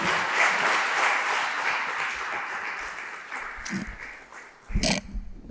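An audience applauds to welcome a university president at an inauguration ceremony, a broad even clapping that gradually thins and fades, followed by a few louder close handling knocks near the end.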